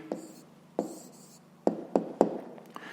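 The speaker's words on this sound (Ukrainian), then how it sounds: "Пишемо відповідь." A hand writes out an answer to a fifth-grade maths exercise, with close, crisp pen strokes and taps on paper: a scratch, a pause, then a quick cluster of three sharp marks and a softer one at the end.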